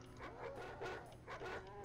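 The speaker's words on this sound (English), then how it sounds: "Dogs go play hide and seek with the monsters and find them before I do." Dogs in the DOOM video game bark and yip in three short bursts over a low droning game background, fairly close and clear.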